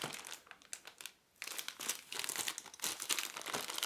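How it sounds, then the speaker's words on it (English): Plastic wrapping crackles and crinkles as the packaging of an ECEEN portable solar panel charger in a sealed plastic bag is opened, in close, irregular bursts with a brief quiet gap early on. "Let's go ahead and open up the packaging."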